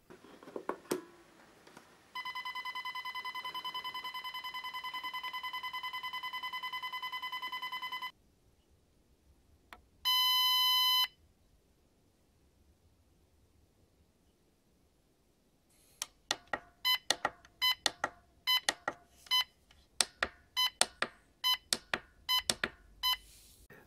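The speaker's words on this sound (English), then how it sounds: "That was just a quick demonstration on the buzzer that's built in." The built-in buzzer of an Xtar Dragon VP4 Plus battery charger sounds a sustained electronic tone, then a short second tone, then a rapid series of sharp, pulsing beeps that continues to the end.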